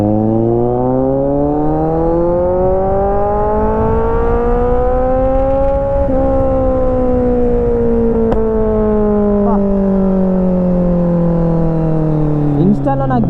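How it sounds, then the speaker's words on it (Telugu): A Kawasaki Z900 motorcycle exhaust drones loud and close, its engine note climbing smoothly, holding, then easing down in pitch, with a faint tick or two near the end. "కొంతసేపు మీరు ఎగ్జాస్ట్ సౌండ్ అయితే ఎంజాయ్ చేయండి"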